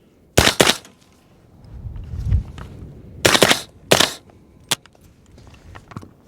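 Suppressed gunshots from a Mini M4 in 300 Blackout fitted with a TiTrex 300Ti titanium suppressor and muzzle brake, fired outdoors at a range: a handful of sharp, muffled cracks in uneven pairs and singles with short pauses between.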